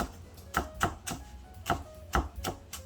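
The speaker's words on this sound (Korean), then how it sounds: "이것도 또 이렇게 작게 착착착착 이렇게 다져" Food being finely minced with a knife on a cutting board for an eggplant dish, about eight crisp, separate chops spaced irregularly, close and fairly quiet, with no talking.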